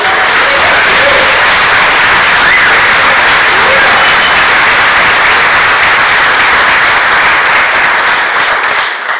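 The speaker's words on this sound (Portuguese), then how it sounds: "Aplauda ao Senhor em nome de Jesus" Loud, continuous clapping from a church congregation applauding the Lord during a worship service, a thick wall of many hands with faint cheering mixed in, holding steady at full strength before cutting off abruptly.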